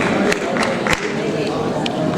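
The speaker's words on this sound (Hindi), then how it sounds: "एक बार तालियों के साथ अभिनंदन" An audience at a literary award and honour ceremony applauds to welcome a guest onto the stage: steady, loud crowd clapping throughout, with a few sharper individual claps standing out near the start.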